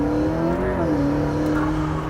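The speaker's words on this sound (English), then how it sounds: "So amazing sound! Yeah. Oh my God! Is it stock exhaust? Yeah. Oh, this turbo sound." A Bugatti hypercar on its stock exhaust, with a loud, steady engine note near at hand and a turbo whoosh. The engine holds a sustained tone that dips slightly partway through.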